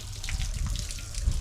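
Water runs steadily from a hose or tap while an RV water heater is flushed and serviced, a continuous close rushing wash with no pauses.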